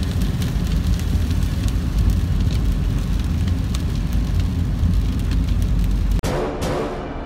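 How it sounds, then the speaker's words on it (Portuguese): Heavy rain pounding a car driving at about 80 on a flooded, waterlogged highway gives a dense, steady roar throughout, then a sudden shift to a thinner wet hiss near the end. "tá chovendo pra caramba ainda"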